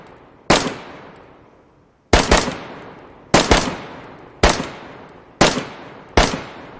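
A 5.56x45 assault rifle fires in DayZ: six loud, close single shots and quick doubles, each with a sharp crack and a decaying echo, spaced roughly a second apart.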